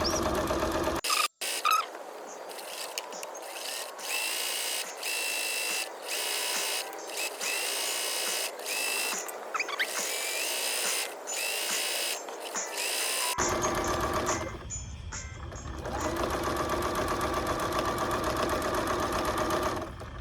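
A sewing machine fitted with an off-brand walking foot on a Bernina runs in steady bursts while a quilt block is stitched, then keeps going under a noisier, broader background in the final stretch; no one speaks.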